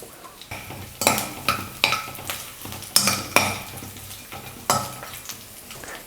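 Crushed garlic cloves in their skins and cashews being roasted in a pan, with a soft sizzle beneath repeated loud scraping and clanking strokes of a spoon against the metal, about one every half-second to second.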